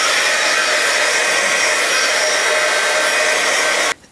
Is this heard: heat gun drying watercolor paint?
yes